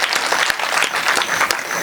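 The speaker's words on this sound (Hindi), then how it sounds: "एक बार तालियां बजा के बताइए वाह" Audience applause at a Hindi poetry gathering in the AMNS township, a dense crackle of many hands clapping, loud and continuous with sharp individual claps standing out, no voices over it.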